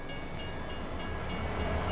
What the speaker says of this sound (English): Ooh, the train is coming right now, actually.